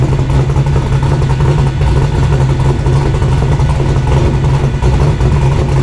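A 351 Windsor stroker V8 idling through straight-through mufflers, a loud, deep, steady rumble with a choppy lope, close by and continuous with no voices.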